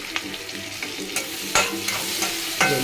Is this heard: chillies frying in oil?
yes